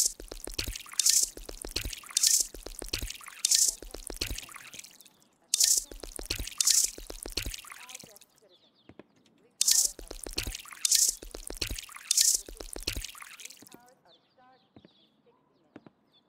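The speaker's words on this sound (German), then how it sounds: "Füllen wir sie vorsichtshalber doch nochmal auf." Water poured onto cannabis plants in the video game Drug Dealer Simulator, heard as repeated bursts of splashing drips in three long runs separated by short pauses, fairly loud and close with no voice over it.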